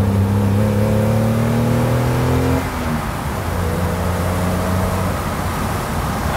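A 1974 BMW 2002 accelerates through a corner, its engine loud and close from inside the cabin, revs climbing steadily then dropping at a shift before pulling again under steady road and wind noise.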